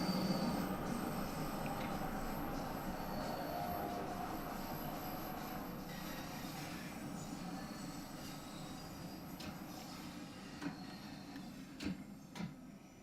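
A London Underground Bakerloo Line train in Train Sim World 2 rumbles along the rails with a steady, fairly quiet roll, wheel squeal and a few sharp clicks near the end.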